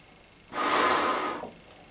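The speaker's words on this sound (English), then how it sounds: "So as you can see, I'm breathing," One heavy, hissing breath drawn through the filter of a Soviet ShM-41 gas mask, lasting about a second, close and loud, with strong air resistance audible.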